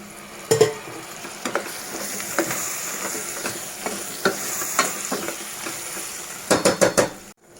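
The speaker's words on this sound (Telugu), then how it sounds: "ఇందులోనే కాస్త పసుపు ఇందులోనే బెండకాయ టమాటా ముక్కలు కూడా వేసుకుని మగ్గించుకుందామండి" Okra and tomato pieces stirred with turmeric in a pan for an okra and prawn stew, loud repeated scrapes and clinks of a spoon against the metal over a steady sizzle, no talking.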